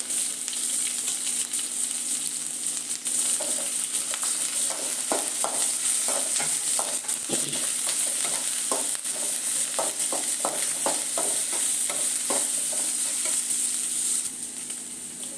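Sliced onions and capsicum fry in a pan for a homemade Maggi noodle recipe, a steady bright sizzle with repeated spatula scrapes and taps against the pan, close and continuous, with no talk.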